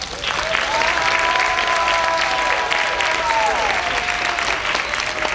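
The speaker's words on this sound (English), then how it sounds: "Round of applause for our mayor" A crowd at a Chicago city budget roundtable applauds the mayor, with steady, loud, dense clapping throughout and a faint whistling tone drifting over it.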